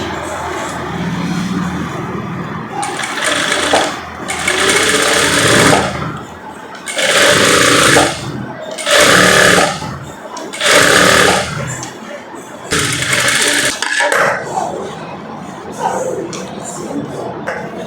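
A sewing machine stitches a short gown in repeated bursts of steady whirring, each lasting one to two seconds and separated by brief pauses, loud and close throughout.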